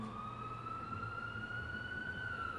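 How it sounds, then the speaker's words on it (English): A steady siren wail holds a sustained tone throughout, slowly rising slightly, over a low rumble of traffic during a candle-lighting vigil; no one speaks. "I'll wait till the siren stops."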